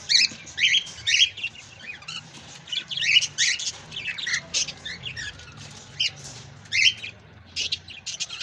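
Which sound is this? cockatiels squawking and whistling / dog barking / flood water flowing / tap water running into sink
cockatiels squawking and whistling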